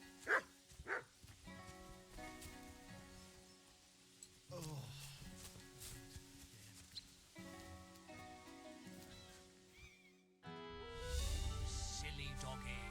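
A dog barks a few times in the medieval video game Kingdom Come Deliverance II, heard amid steady in-game music and ambience, with a louder stretch near the end.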